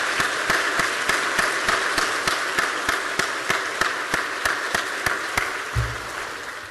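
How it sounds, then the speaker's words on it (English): An audience at a public lecture event applauds a former president, a fairly even round of clapping with sharp individual claps standing out in a regular pattern, sustained for several seconds at moderate loudness. "Please join me in giving Mr. S.R. Nathan, again, our former president, a very big round of applause."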